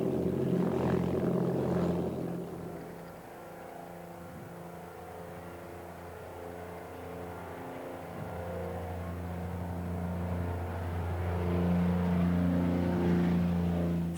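A Basset test aircraft in flight gives a steady, droning engine hum with layered tonal harmonics, holding constant throughout and swelling slightly louder toward the end, with no voices.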